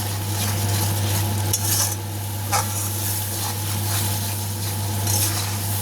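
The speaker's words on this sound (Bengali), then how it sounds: "এটা দিয়ে এটাকে আমি মিশিয়ে দেবো এর সাথে" A spoon stirs a little sugar into fish masala for katla fish curry in a pan, giving soft scraping and gentle sizzling over a steady low hum, with a few sharper clinks.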